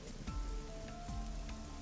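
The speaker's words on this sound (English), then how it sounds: "The parasol is getting pelted by the rain." Rain pelting a parasol in the video game AI: The Somnium Files, a soft steady patter of drops under faint game music tones, quiet and continuous.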